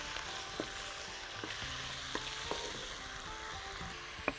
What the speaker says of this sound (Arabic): وهنبتدي نقلي أول حاجة الفراخ